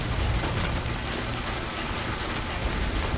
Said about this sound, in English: conveniently enough it has started to rain